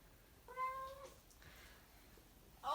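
A pet cat lets out a clear meow close by, followed after a pause by the start of a second call, in an otherwise quiet room.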